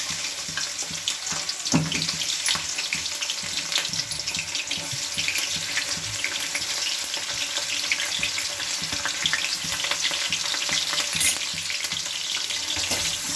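Onions sizzling in hot oil in a pan while cooking chicken fry, a steady bright crackle and hiss that runs throughout at close range, with occasional stirring and clinks, no talking.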